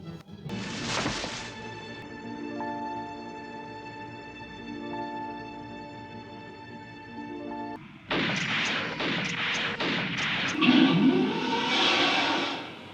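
Grenade blast and crashing debris from a 1977 adventure film soundtrack, a sharp burst near the start, then sustained tones and a dense rumbling, crackling clatter later, loud and close.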